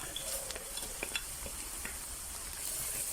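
Braising spice and garlic sizzle in a hot pan for a Durban-style crab curry: a steady close hiss with scattered crackles and pops, and no talking.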